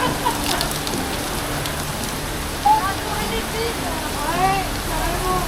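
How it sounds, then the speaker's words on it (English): Steady rain falls and patters during a bike ride on an overcast, windy day with passing showers, a constant hiss close by with a few brief tonal chirps over the top. "The rain is back again."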